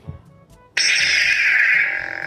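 A red Master Replicas Lightsaber Construction Set toy lightsaber switches on abruptly and settles into a steady, buzzing electronic hum that holds loud and even, with no talking.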